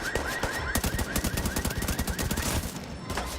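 Rifle in The Division 2 firing rapid bursts of three rounds, a dense run of sharp cracking shots repeated several times in quick succession, loud and close, with no talk.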